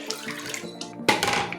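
Water runs steadily, then a louder gush of splashing water begins partway through as more water is poured into a pot of owowo (egusi pepper soup) with okra.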